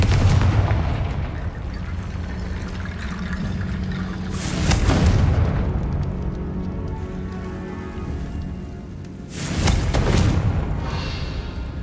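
The Confringo fire spell from the Hogwarts Legacy video game goes off in two loud, booming blasts several seconds apart, over a constant rumbling game ambience.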